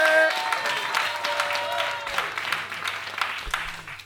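Live audience at a stage show applauds steadily, a dense wash of many hands clapping at moderate volume that slowly thins out over about four seconds, with a brief musical tone at the start.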